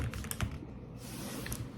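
Typing on a laptop keyboard during an unboxing, a steady run of quick key clicks with a few louder taps, fairly close and heard alone over a faint room hum.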